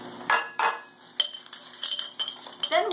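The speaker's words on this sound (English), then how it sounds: "you place the onion soup in with the orange glaze" Onion soup is added to an orange marmalade glaze in a bowl, with a series of light, close clinks and taps of a utensil against dishware, irregular and fairly crisp.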